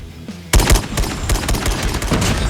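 Rapid bursts of SKS rifle gunfire in Call of Duty Mobile, a loud run of close, sharp shots that begins suddenly after a short quiet lead-in and keeps firing at an uneven rhythm.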